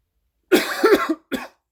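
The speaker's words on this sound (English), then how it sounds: "Yeah, that's a legit cough." A single harsh cough close to the microphone, followed by a shorter second cough, then silence.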